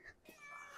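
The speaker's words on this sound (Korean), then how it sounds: "여기 고양이가 좀 친절하네요" A friendly street cat in an old neighborhood of low, aging buildings in Sillim-dong, Seoul, gives one short, faint meow close by, with light background noise around it.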